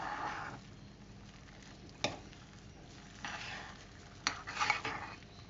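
Shredded cheese is folded into a low-carb, gluten-free savoury broccoli muffin batter in a bowl, giving soft wet squishing and scraping strokes. A few sharper spoon knocks against the bowl stand out over quiet background, with no talking.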